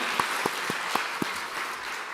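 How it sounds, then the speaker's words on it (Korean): Church congregation at a Children's Day service gives a short round of clapping, about five distinct, evenly spaced claps over a steady background hum. The claps grow slightly quieter as they go. "박수 한번 하겠습니다"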